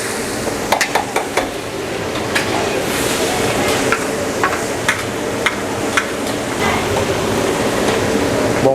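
Garlic frying in oil, with margarine, in a large catering batch for mie goreng: a loud, continuous close sizzle with scattered sharp ticks and crackles throughout.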